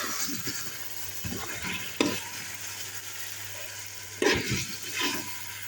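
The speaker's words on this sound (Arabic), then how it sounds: "شوف نقلي بها التوابل" Spices sizzle steadily in hot oil in a cocotte pot with a cinnamon stick and salt for an Algerian olive tajine, a close, continuous frying hiss broken by a few louder stirring scrapes.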